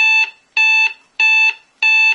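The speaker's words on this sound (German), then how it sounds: "Und da kommt der Wecker." An alarm beeps in four loud, evenly spaced electronic bursts, sharp and close, with silence between each.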